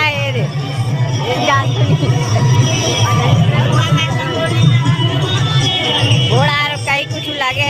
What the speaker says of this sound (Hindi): भारी भीड़ भाड़ आका है आनंद मेला में